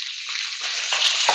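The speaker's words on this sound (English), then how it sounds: "It's gonna make a big splash, big sizzle, big splash." Liquid and soy sauce hit a hot pan with a sudden splash and a loud, steady sizzle that swells in two bursts, frying close up with no talk.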